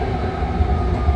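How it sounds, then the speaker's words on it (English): A six-car BART Red Line train pulls into South San Francisco station, a steady loud rumble of rolling wheels and car noise heard from inside the carriage, with no talk. "here we are pulling into the South San Francisco station"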